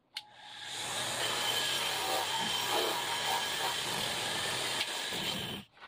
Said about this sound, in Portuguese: Vou ligar o motor aqui agora, ó.